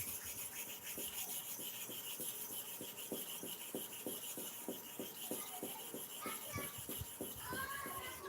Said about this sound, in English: Go to and fro 25 times.